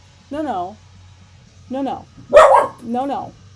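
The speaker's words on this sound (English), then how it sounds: "She's barking out the window." A dog barks out a window four times in separate bursts, fairly close, with a low steady hum underneath and no talking.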